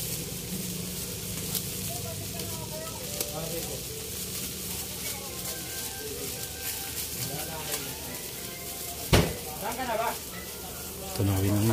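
Star margarine melting in a hot cooking pot while making squid adobo gives a steady, moderate sizzle and hiss that runs throughout, with faint clinks and a sharper scrape near the end and voices talking over it.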